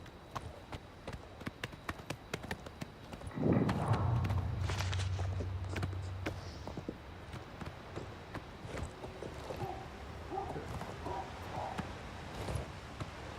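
A horse walks in an Elder Scrolls video game, its hooves tapping in a steady, moderately close rhythm, with a brief low rumbling swell partway through.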